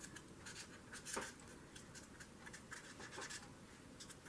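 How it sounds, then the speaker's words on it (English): Quiet, rapid scratching of a pen or marker moving back and forth on paper in short repeated strokes, heard close up. "I'm going to color in these little pieces of paper."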